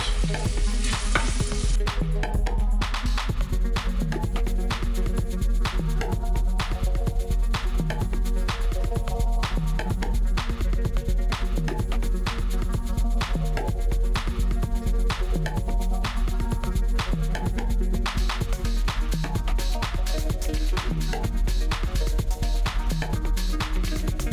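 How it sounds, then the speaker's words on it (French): Onions and garlic sautéing in a pan, stirred with a wooden spoon while making a parmesan gnocchi broth: steady loud sizzling with repeated scraping stirs, continuous and close, no voices. "ça fait 3 minutes que nous sommes en train de faire revenir les oignons et l'ail"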